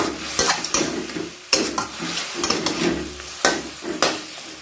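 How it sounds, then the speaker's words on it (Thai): Pork simmering and frying in oil in a pan as it reduces for Thai sweet pork, a steady close sizzle broken by several sharp scraping stirs and clinks of a utensil against the pan, with no talking. "เราเคี่ยวให้ น้ำมันงวดลงนะคะ แล้วก็ความอร่อยมันจะเข้าไปในเนื้อหมูเลยค่ะ"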